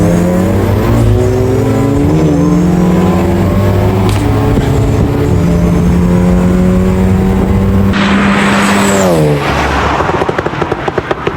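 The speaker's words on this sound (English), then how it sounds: "we've also got my Mark 8 GTI. Just there, going off in the background." A tuned VW Golf Mark 8 GTI revs loudly and steadily, its engine note rising and falling through several sweeps before a sharp climb and drop with a whooshing burst near the end, no voices.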